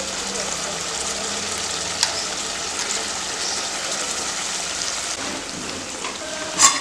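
A ground onion, tomato, ginger and garlic paste sizzles in a pan with frying potatoes for an Andhra-style potato kurma. The hiss is steady and dense, with a brief clatter near the end.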